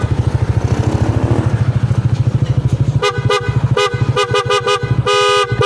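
A loud dual contact horn fitted to a Yamaha NMAX 155 scooter blasts in a run of short honks and ends on a longer held blare, close by, over the scooter's idling engine.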